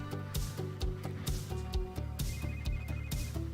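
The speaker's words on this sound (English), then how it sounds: "somebody's phone is ringing." A phone rings in a repeated electronic ringtone pattern, fairly loud and close, with no talk over it.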